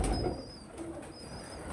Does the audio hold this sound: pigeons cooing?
yes